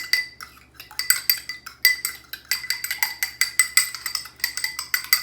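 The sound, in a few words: beating an egg in a bowl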